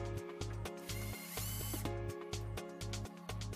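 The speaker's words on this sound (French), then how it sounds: "Commencez par fixer votre serrure par les trous de la tétière." A power screwdriver drives screws through the faceplate holes of a Beluga three-point door lock, its motor whirring in repeated short bursts with brief pauses between, loud and close.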